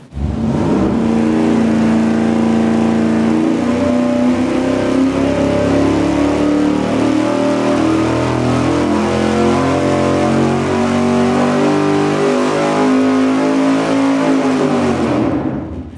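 Engine dyno pull with an open carburetor spacer: a loud, sustained engine roar whose pitch climbs steadily for about fifteen seconds, then cuts off abruptly.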